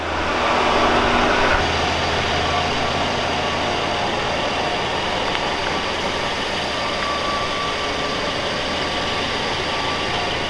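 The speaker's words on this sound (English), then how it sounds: "just the engine noise of everything moving is louder than the exhaust note" A Rolls-Royce Ghost engine idles smoothly and steadily nearby, a constant low rumble with no voices.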